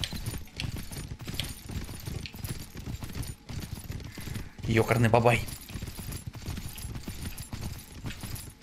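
In the survival game Myth of Empires, a horse gallops with rapid, rhythmic clip-clopping hooves that run steadily throughout, and a brief clattering mechanical burst cuts in midway while someone speaks over it.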